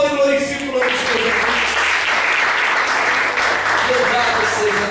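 A church congregation applauding during a sermon, a broad, steady wash of clapping that swells in and holds for several seconds, with a voice speaking at the very start.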